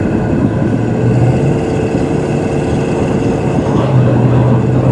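A vintage car fitted with aftermarket headers, dual exhaust and Flowmaster mufflers drives along, producing a steady, loud, continuous engine drone and road rumble without any voices.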